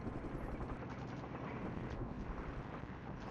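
Helicopter rotor noise in the war game Flashpoint Campaigns, a dense, steady broadband roar that holds at an even loudness throughout, like an aircraft passing close overhead.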